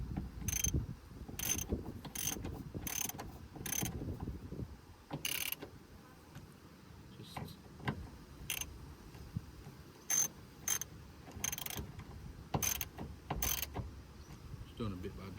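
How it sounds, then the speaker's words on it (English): Hand-tightening bolts on a Holden VY/VZ side mirror produces a series of quick, sharp ratcheting clicks in short bursts, close and fairly quiet, separated by brief pauses. "Now I'm just gonna tighten them up because I need these hand tight."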